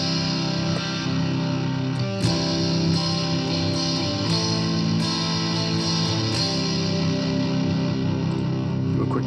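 Electric guitar through a Princeton amp emulation tone print rings with sustained, slightly distorted chords, with a few sharp pick or string attacks standing out, alone and close.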